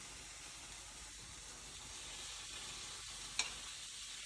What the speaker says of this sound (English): You want it to really give you that nice sizzling sound.